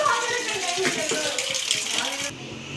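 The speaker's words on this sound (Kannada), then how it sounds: "ಕುಕ್ಕರಲ್ಲಿ ವಾಟ್ರ್ ಇಕ್ಕಿದ್ದಾರೆ." Water poured into a pressure cooker in a village kitchen while making spinach and fenugreek leaf sambar; a short steady splashing pour close by, stopping abruptly near the end.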